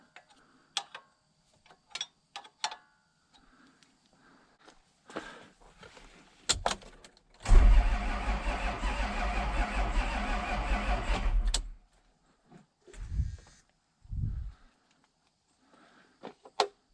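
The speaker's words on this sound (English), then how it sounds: "I guess we'll crank it over just a little bit" A 1994 Isuzu cab-over truck that has sat for three years is cranked briefly, one faint, steady grinding run of about four seconds amid scattered quiet clicks and knocks in an otherwise hushed space.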